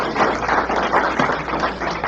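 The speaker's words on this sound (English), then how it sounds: "Can we give these folks a round of applause?" An audience at a candidate forum claps steadily for a couple of seconds, a dense, even patter of many hands at moderate loudness with no voices over it.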